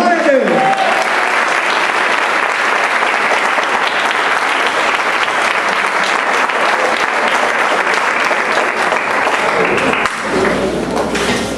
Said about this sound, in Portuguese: Vamos dar uma forte salva de palmas para o Senhor Jesus Cristo.